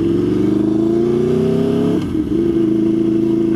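An Aprilia Tuono V4R motorcycle's V4 engine holds a deep, loud steady rev up close, briefly dipping around the middle before climbing back to the same strong drone.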